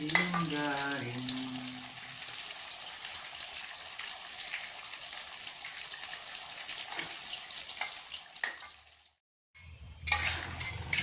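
Cassava frying in hot oil gives a steady crackling sizzle throughout, with a voice speaking briefly near the start and a short gap of near silence late on before the sizzle resumes.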